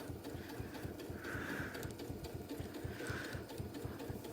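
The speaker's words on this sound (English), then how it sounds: "I'm just going to stitch right close to that edge" A sewing machine stitches close along the edge of quilt blocks being joined quilt-as-you-go, a fast steady mechanical chatter with a couple of brief whirring surges, close and alone.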